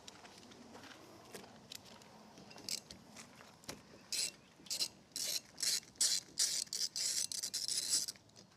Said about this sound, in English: we're going to need a socket, and it's a 13mm socket to take that nut off